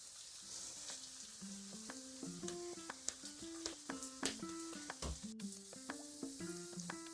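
Steady crackling sizzle of vegetables frying in a pan for fried shchi, with clinks of a utensil against the pan and a soft hiss throughout.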